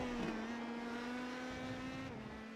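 Race car engine in a racing video game as the car brakes hard into Canada corner at Road America, a loud sustained engine drone with a steady pitch and no speech.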